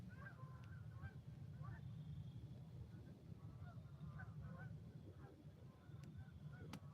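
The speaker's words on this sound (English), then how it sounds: "watching the geese fly by." Geese honk faintly and intermittently while flying over a lake on a rainy day, their scattered calls distant above a low steady rumble of rain and ambient noise.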